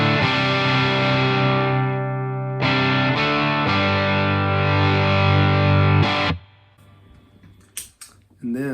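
Electric guitar through an aggressive distortion pedal with the volume full up, sustained thick chords ringing loud and close, then cut off sharply into near silence broken by a few faint clicks.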